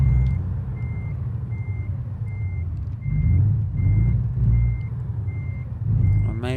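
Truck reversing alarm in American Truck Simulator beeping in a steady, evenly spaced series of about nine short tones over a continuous low diesel engine rumble, with no talking.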